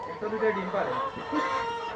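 A rooster clucks briefly in the background at a poultry farm while a person speaks close by, over a faint, busy murmur.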